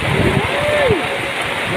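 Heavy rain pours during a storm in Balotan, a dense steady wash of noise filling the background while a voice speaks over it.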